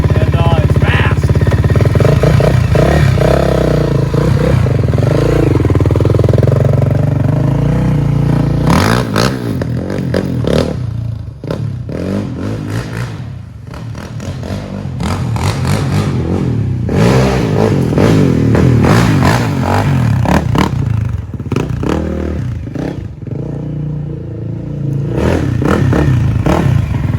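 An Arctic Cat DVX400 ATV, heavily worked engine now bored to about 440 or 450, runs loud and close, revving hard in repeated surges with clattering mechanical noise and brief dips between pulls.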